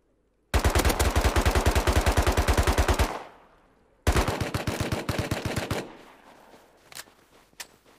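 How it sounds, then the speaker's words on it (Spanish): Two long, rapid bursts of Thompson submachine gun fire in the game Rust, loud and close, followed by a few scattered single shots and clicks. "No ves cómo suena a Thompson"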